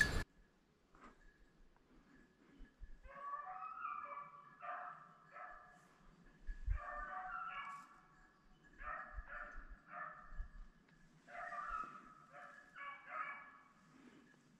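Hunting dogs on a snowshoe hare hunt bark and bay in repeated bursts, fairly distant and faint over a quiet outdoor background, with a few short pauses between volleys.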